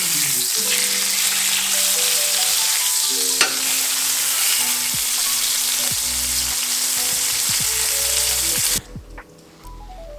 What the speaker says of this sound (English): we're going to start turning the steak like every 10 seconds now here in a second, because the sear is where we want